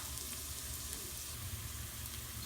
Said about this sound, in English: I'm going to start out sauteing some garlic until it's fragrant.